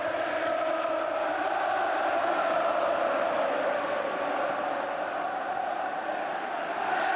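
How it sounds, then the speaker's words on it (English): Old Trafford football crowd roaring in a sustained, loud mass of voices across the stadium, steady throughout without breaks. "And listen now to the Old Trafford crowd."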